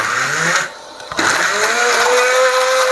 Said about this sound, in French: on va venir mixer à l'aide d'un mixeur plongeur notre crème qui est infusée avec le serrano et le parmesan à l'intérieur